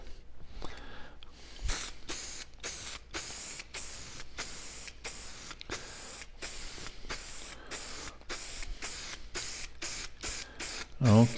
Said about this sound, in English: So we'll come back here to our deft lacquer. And let's apply a second coat.